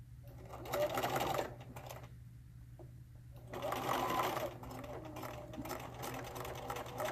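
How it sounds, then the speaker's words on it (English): Sewing machine stitches apron straps and pockets in two bursts of fast, steady mechanical whirring, with a quieter pause between them and a low constant hum underneath. "now that you've got your straps sewn on, your pockets sewn on"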